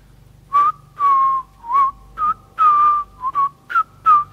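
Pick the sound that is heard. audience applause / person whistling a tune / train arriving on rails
person whistling a tune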